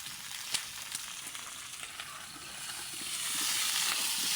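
Eggplant fries in hot oil in a village kitchen, a dense, constant sizzle with occasional pops that swells louder toward the end.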